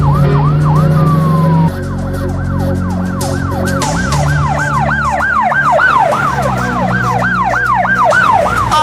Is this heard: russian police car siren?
yes